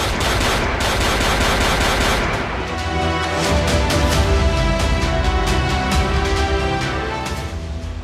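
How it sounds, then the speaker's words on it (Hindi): Rapid gunfire from a modern rifle used as a sound effect in a news report, a loud, dense burst of repeated shots running throughout with a rattling rhythm and no speech over it. "अत्याधुनिक राइफल से 40 राउंड की फायरिंग।"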